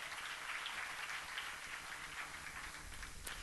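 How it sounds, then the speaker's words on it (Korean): A church audience at a Korean Psalms lecture gives a round of applause, a faint, dense, even patter of many hands heard from a distance and sustained without a pause. "박수로 하나 주세요"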